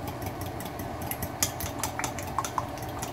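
Seasoning mix of garlic, paprika, salt, pepper and liquid smoke being stirred in a bowl, with scattered soft clinks and scrapes of a utensil over a steady low background hum.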